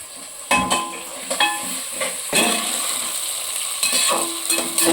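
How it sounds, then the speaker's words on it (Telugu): Onions frying in a pan for tomato curry, a constant bright sizzle broken by several loud scraping stirs of the spatula, close and fairly loud with no talking. "అది గోల్డ్ కలర్ వచ్చేదాకా వేయించుకోండి."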